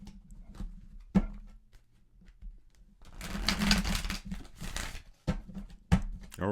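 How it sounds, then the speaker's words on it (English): A Rider-Waite Smith tarot deck is shuffled by hand, with a few sharp card taps early on and then a dense burst of riffling papery rustle lasting a couple of seconds, followed by more isolated clacks. "And let's shuffle one more time."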